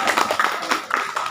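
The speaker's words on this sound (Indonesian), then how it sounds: "Tepuk tangan jemaah." Worshippers at a Maulid religious gathering clap in scattered, uneven bursts, the hand claps close and distinct, with no talk over them.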